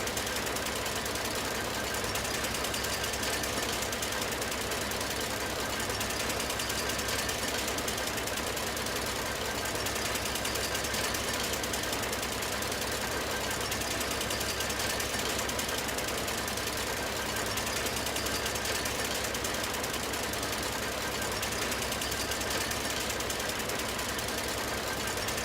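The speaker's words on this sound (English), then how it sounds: "Sounds like I'm dragging a jackhammer behind the tractor." A tractor engine in Farming Simulator 19 makes a continuous, dense, jackhammer-like rattle and knock that stays steady and uniform the whole time, with no talking.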